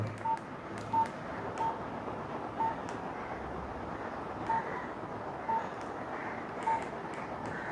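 Keypad tones from a phone as numbers are entered and saved: a series of short, separate beeps at an irregular pace over a steady, noisy background, with no talking.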